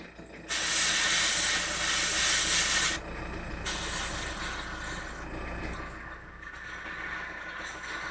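Airbrush or spray can laying a wet coat of paint onto the glass of a 1/16 scale MPC General Lee model car, a loud steady hiss for about two and a half seconds that cuts off, followed by quieter background noise.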